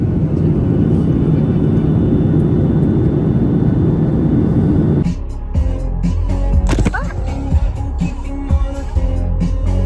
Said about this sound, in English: Alright, I'm getting on the plane now.